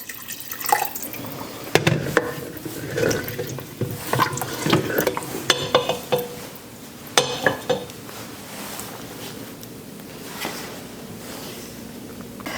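Water poured and stirred into a pot of cut vegetables for carrot soup, with irregular splashes, clinks of utensils against the pot and dripping, close and fairly loud, with no talking.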